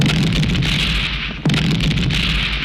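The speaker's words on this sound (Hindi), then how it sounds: "धमाका सुना" A petrol pump is blown up in a film scene, heard as heavy rumbling booms with a sharp burst partway through, loud and close, rolling into a sustained roar.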